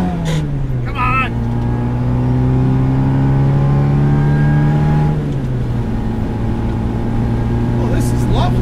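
Supercharged left-hand-drive 1967 MGB GT engine pulling through the gears, a loud close rising drone that drops at a missed shift and climbs again, with someone talking over it.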